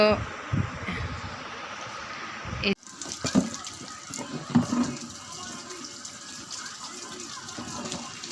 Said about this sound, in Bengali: তো আমার বাসন ধুচ্ছি এখন চা খাওয়ার বাসন